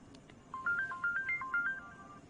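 A mobile phone plays a short melodic ringtone, a quick run of bright electronic tones repeating over a low background hum, moderately quiet and alone.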